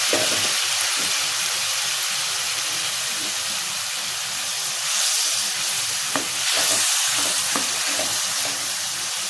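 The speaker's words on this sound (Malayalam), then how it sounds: "ഇനി നമുക്ക് നന്നായിട്ടൊന്ന് മിക്സ് ചെയ്യാം." Tomato and soya chunks stirred in a pan with hot water give a steady loud sizzle and hiss, with occasional scraping strokes of the utensil throughout, close up and alone.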